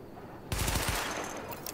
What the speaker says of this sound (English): Open fire at the highlighted targets.